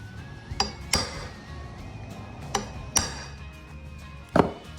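Sharp metallic strikes land one at a time at uneven intervals, hammering moist mushroom spawn plugs into a log, about five hits, each ringing briefly over a low background hum.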